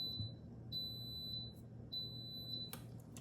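Instant Pot electric pressure cooker beeping as its start button is pressed for a batch of eggs: three clear, high electronic beeps at spaced intervals, each sustained briefly, over a low room hum, with a short clatter near the end.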